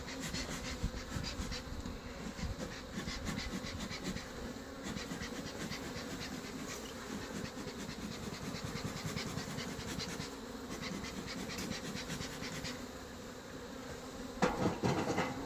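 Honey bees swarm around an open hive during queen cell removal, a dense continuous buzzing close by that stays steady throughout with a few scratchy handling sounds near the end.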